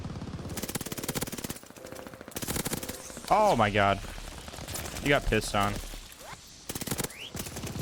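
PPSh submachine gun fired from the hip in Call of Duty: Vanguard, rapid automatic bursts rattling loudly across the clip while players talk and shout over the gunfire.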